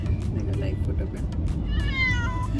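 A cat on a film set meows a few times toward the end, close and fairly clear, while people chat over a low rumble of background noise.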